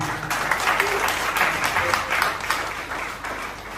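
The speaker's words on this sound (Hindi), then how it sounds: "इसके लिए जोरदार तालियां" Loud, sustained applause from an audience at a leadership award gathering in Gaya, Bihar, dense clapping filling the room steadily for several seconds.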